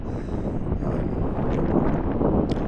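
Steady wind gusts across a golf course on an open fairway, buffeting the microphone as a continuous rough roar with no other clear sounds.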